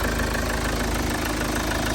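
A Kia Sorento engine idles close by, a steady low rumble with a fine rhythmic knock running evenly throughout, no voices.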